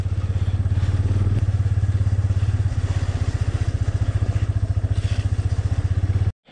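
A motorcycle rides a slippery, snow-covered mountain road in a cold winter valley, its engine thrumming loud and close in a steady, rapid pulse for about six seconds before it cuts off abruptly.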